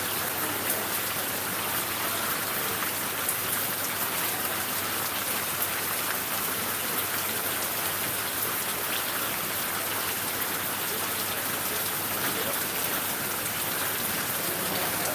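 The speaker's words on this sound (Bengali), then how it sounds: "মেঘের শব্দ মাঝে মাঝে ভেসে আসছে আর সাথে বৃষ্টির ছন্দ" Continuous, even rain falling in northern Bangladesh with a dense hiss of drops on surfaces, unchanging throughout; no voices.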